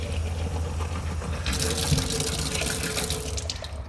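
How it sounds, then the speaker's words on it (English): Five hundred millilitres of water is poured into a measuring container during a capacity lesson. A low hum gives way to a bright, close splashing rush halfway through that lasts about two seconds before the pour ends. "So this is 500 milliliters going in."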